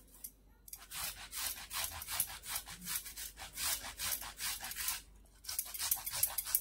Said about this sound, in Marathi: मी असंच किसून घेणार आहे हा टोमॅटो